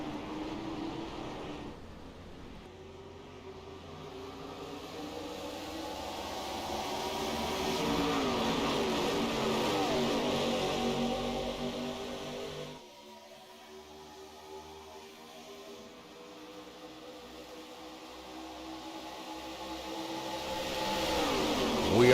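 Stock cars in a NASCAR-style racing game at Daytona drone and rev loudly together under green-flag racing, engine pitch climbing and surging, dipping briefly midway before swelling again near the end.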